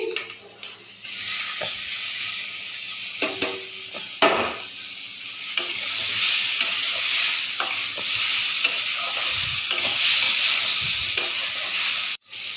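Vegetables including potatoes and taro frying in a pan give a loud, steady sizzle throughout, punctuated by repeated clacks and scrapes of stirring, heard up close without talk.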